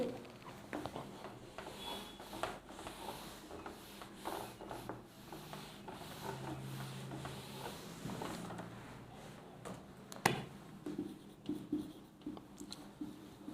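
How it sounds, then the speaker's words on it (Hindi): A teacher writes on a board during a physics lesson, producing a continuous scratchy rubbing with short strokes and taps, fairly quiet and close with no talking. "ये भी मैं लिख देता हूं आपको।"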